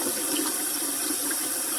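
Water runs steadily from a kitchen tap into a sink as it is filled for washing with a sponge, a constant close hiss and splash that carries on without a break.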